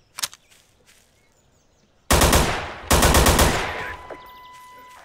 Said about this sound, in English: The next one is the HK416. Good gun, automatic.